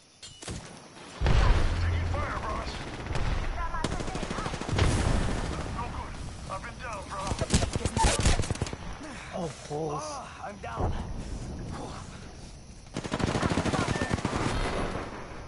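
Apex Legends gunfight with repeated automatic bursts and heavy fire over several seconds, loud and near, with voices calling out over the shooting.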